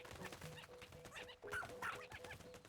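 A dog in the Pikmin 4 video game whimpers and yips in short, scattered calls over busy game sounds and music at low level.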